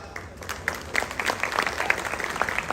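Audience applause at a real estate investor event for a housing enclave, a dense patter of many hands clapping that swells and stays steady throughout, with no voices above it.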